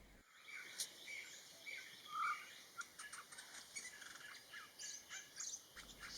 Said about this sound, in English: This is the black-naped woodpecker.